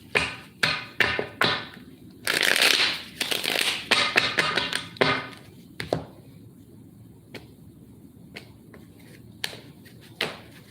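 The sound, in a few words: shuffling tarot cards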